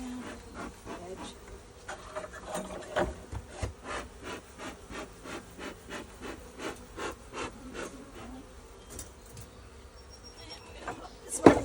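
Honey bees buzz faintly around an opened hive during a beekeeping check as supers are added, a soft steady hum threaded with scraping and rubbing of hive equipment and brief handling knocks.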